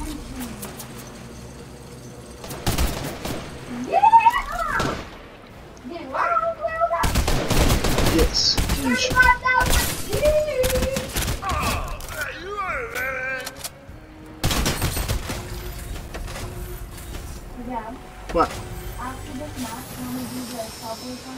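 Gunfire in Fortnite, bursts of rapid shots and crackling blasts coming in several clusters over a noisy game background, with a person talking between and over the shooting.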